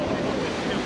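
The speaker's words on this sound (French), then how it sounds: "Il y a plus de 20 nœuds de vent là maintenant." Strong wind of over 20 knots rushes over a sailboat at sea off Portugal, with a constant roar of wind noise and wave wash filling the clip at a steady, loud level.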